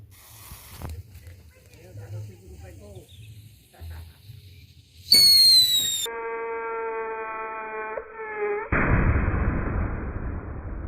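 A Wesseling King Thunder firecracker set on a yellow water balloon: quiet fizzing and rustling, then shrill whistling tones, then a sudden loud burst that trails off into a splashing hiss.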